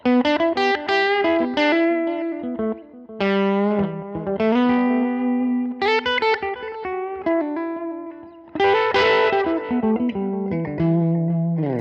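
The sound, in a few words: electric guitar through tweed cabinet simulation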